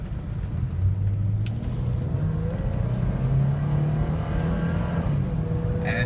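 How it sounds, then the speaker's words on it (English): A Toyota 4Runner Sport Edition SUV engine revs up and accelerates at full throttle, its rising tone dropping briefly at smooth gear shifts before climbing again, loud and close throughout. "super smooth shifting gears, even at full acceleration"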